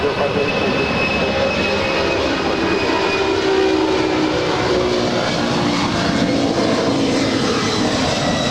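A DHL ABX cargo jet departing for Phoenix produces a constant, heavy engine rumble and whine at a busy airport, loud and sustained, with faint talking in the background.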